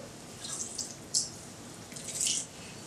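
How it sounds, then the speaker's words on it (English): Water drips and trickles from tofu squeezed in a cheesecloth, a few soft splashes and a brief gush, quiet and close with no talking. "squeezing the water out of the tofu"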